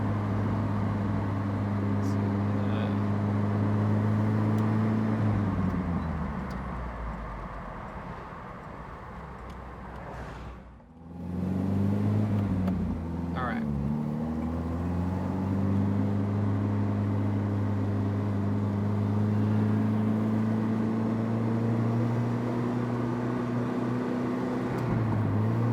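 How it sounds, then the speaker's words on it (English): A Citroen DS21 drives along a curvy road, its engine making a steady low drone heard from inside the cabin that dips briefly midway as the car slows, then picks back up and holds. "This is a great road to drive these old cars on."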